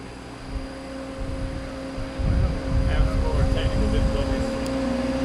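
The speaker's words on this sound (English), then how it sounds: "Uh-oh, another airplane flew across." Aircraft passing overhead outdoors in Utah near a woodworking machine tour, a broad low rumble swelling after two seconds and holding steady alongside a constant machine hum, with voices faintly present.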